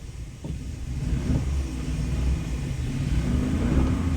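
A 2001-era Chevrolet Silverado pickup engine with 201,000 miles, started cold, idles roughly and then revs up, a low rumbling growl rising and holding steady at close range.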